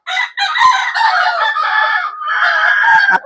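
Several garden chickens and roosters crow and cluck loudly and close by, overlapping calls running almost continuously with only brief gaps, no talk over them.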